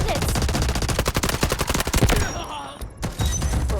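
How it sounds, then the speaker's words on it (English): Rapid volleys of explosive gunfire-like blasts pound in dense succession during an artillery barrage in the mobile video game Delta Force Mobile, loud and close, thinning out briefly before another heavy burst returns. "Requesting artillery barrage on coordinates!"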